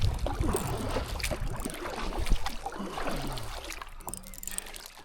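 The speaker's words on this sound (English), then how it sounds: "you can hear a waterfall or a pipe" Water trickles and splashes from a waterfall or pipe beside the River Tamar near Calstock, heard from a canoe amid paddle sloshes and light wind; the trickling runs continuously at moderate distance, with no speech.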